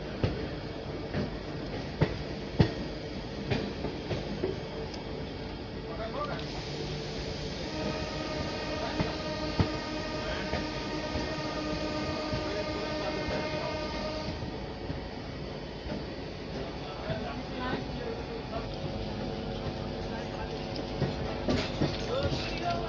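A new DEMU passenger train running from Sultanganj to Deoghar, heard onboard as a steady rumble of wheels and carriage with a drawn-out horn blast in the middle and a few clanks, with faint voices in the background.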